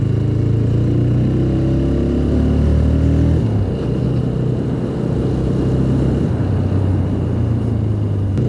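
A 2025 TVS Raider 125 motorcycle's engine drones loud and steady while riding, with a shifting pitch as the clutch is released, heard close with no talk.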